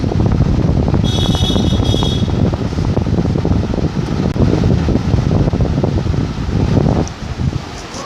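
A Khaitan Magnate 36-inch ceiling fan spins at speed 5, a loud steady whooshing rush of moving air with a faint rhythmic flutter, continuous and close.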